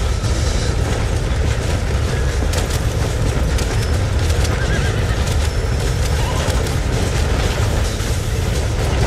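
Horses pulling a wagon in Red Dead Redemption whinny loudly over the dense, constant clatter of hooves and rolling wheels, a busy, unbroken wall of sound at close range.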